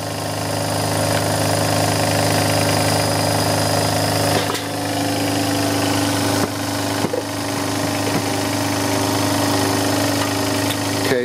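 A Kromrey generator runs steadily at about 1,550 RPM, giving a continuous loud mechanical hum with a throbbing, vibrating engine-like drone throughout and a few small knocks.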